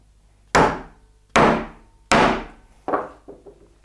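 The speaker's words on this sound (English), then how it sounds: "Hammer it down a little bit," A chisel is struck into wood to cut a mortise for a mortise and tenon joint, with three loud, sharp hammer blows spaced evenly, then a couple of lighter taps.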